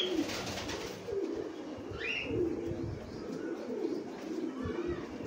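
Jacobin pigeons cooing in a farm loft, soft rolling coos repeating under a busy background of other birds, with a faint chirp or two rising above the murmur.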